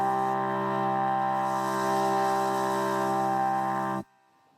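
Vocal run through iZotope Vocalsynth 2 with a quick delay and distortion turned up: a thick, buzzy sustained synthesized drone held for about four seconds before stopping sharply.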